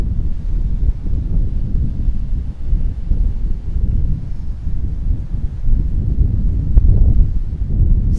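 Strong wind on the rocky coast of Pico Island in the Azores buffets the microphone, a continuous loud low rumble that swells and eases with the gusts, and no voices are heard.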